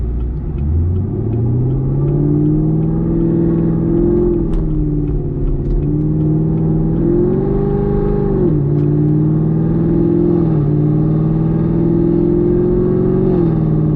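A Chevrolet Camaro running on E85 fuel pulls away from a gas station, its loud engine droning up through the gears with rising and falling revs and steady rumble, heard close from inside the car.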